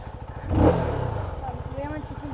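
A CFMoto 250NK motorcycle engine revs up near the microphone, rising to a peak then settling into a steady idle rumble, heard alone without talk.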